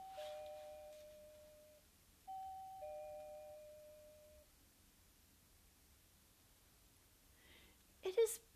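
A doorbell at a castle door chimes in two quiet ding-dong sequences of sustained tones, fading in a hushed room, followed near the end by a brief close clatter.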